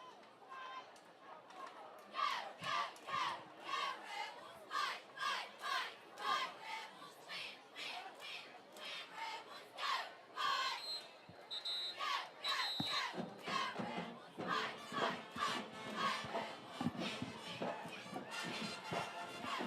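Crowd at a Tallassee Tigers versus Reeltown high school football game, shouting and cheering in loud, rolling bursts with chatter mixed in throughout.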